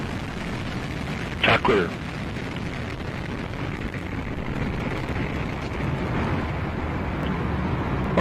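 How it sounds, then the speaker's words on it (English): Atlas V rocket lifting off with the Lucy spacecraft, a steady broadband roar rumbling throughout with a brief burst near the start and growing slightly louder toward the end, heard under a voice on a radio loop. "Liftoff. Atlas V takes flight, sending Lucy to uncover the fossils of our solar system."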